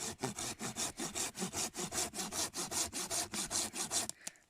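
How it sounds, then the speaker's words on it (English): Silky pull saw cutting through gorse stems while clearing ground, about twenty rapid, evenly spaced rasping strokes up close, each pull loud and bright, stopping abruptly near the end. "So silky saw works on the pull stroke rather than the push, like conventional saws or western saws"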